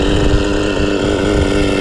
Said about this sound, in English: The sound and smell of nitro is just so cool